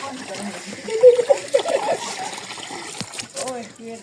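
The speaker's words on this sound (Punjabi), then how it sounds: "ਸਾਰੇ ਜਾਣੇ ਆਪਣੇ ਆਪਣੇ ਹੱਥ ਧੋਵੋ" Water splashes and trickles as people wash their hands at home before a birthday cake is cut, close and moderately loud, with voices talking over it.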